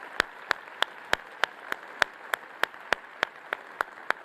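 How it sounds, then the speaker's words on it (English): Faint, evenly spaced hand claps from an audience at a keynote speech repeat in a steady rhythm, about three per second, with no voices. "Let's give a big applause for her."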